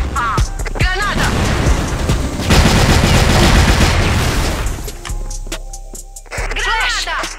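Grenade explosion in a team shooter, a loud broad blast and rumble in the middle amid dense gunfire, with voices and sharp game sounds before and after.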